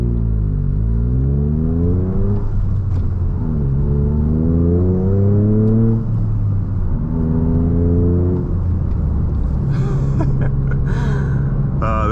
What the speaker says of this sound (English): It's like a mixture between like a 4-cylinder and a 6-cylinder with the way that it sounds